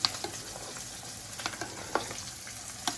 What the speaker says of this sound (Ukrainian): Варенички наші закипають.